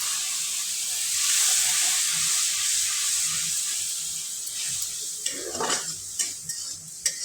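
Masala sizzling in a pan after a splash of water is added for Bengali fish curry with brinjal, a loud steady hiss with stirring scrapes and clinks of the pot growing busier toward the end.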